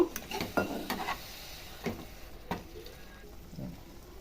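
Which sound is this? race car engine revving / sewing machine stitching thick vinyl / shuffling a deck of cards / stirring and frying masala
stirring and frying masala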